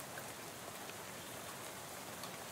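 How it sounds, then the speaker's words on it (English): Rain spattering on a bus window in a video game: steady, dense hiss of drops with faint scattered ticks, continuous and even throughout, no voices. "soon you're dozing off to the sound of rain spattering on the window beside you"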